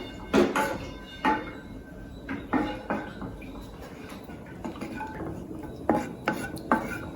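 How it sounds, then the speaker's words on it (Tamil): A spoon scrapes and clinks against a pan as a few cashew nuts roast and get stirred, giving soft irregular metallic taps and rubs, fairly quiet and close, with no talking. "4-5 முந்திரி பருப்பை இதில் வறுக்க போகிறேன்"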